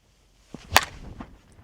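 A 2025 Easton Tantrum USA/ASA slowpitch bat strikes a softball in a single sharp, loud crack, followed by a few faint thuds and quiet background.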